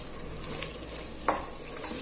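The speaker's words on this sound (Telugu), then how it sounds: "సో ఇవన్నీ వేసుకున్న తర్వాత ఒకసారి బాగా మనం ఫ్రై చేసేసుకుందాం" Vegetables with turmeric frying in a pan give a steady, soft sizzle, with one brief clink of a spoon stirring partway through.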